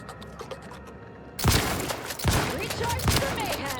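A trench gun fires in The Outer Worlds 2, with several sharp, loud blasts spaced about a second apart after a quiet start.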